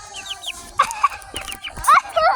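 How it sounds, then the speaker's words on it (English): A flock of eleven young pet chickens clucks and peeps close by, with a rapid run of high chirps followed by louder, bursty clucks and squawks that come in irregular clusters. "Yeah, those are my chicks."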